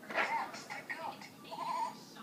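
A young child mimics a goat's bleat with a few short, wavering vocal bursts, close and moderately loud, with an adult voice nearby.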